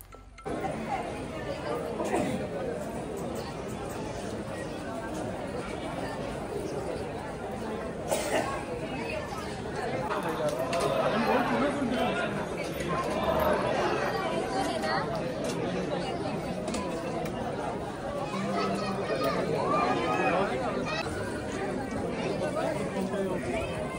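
Crowd chatter inside the busy Bhimashankar temple during the Shravan month, with steady overlapping voices and shuffling of many pilgrims waiting in long queues, a close voice now and then over the dense babble.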